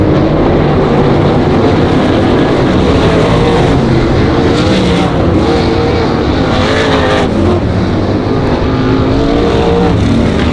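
Race cars at Monarch Motor Speedway roaring around the oval, a dense, continuous, loud wash of engines rising and falling as the pack passes, with no talk over it.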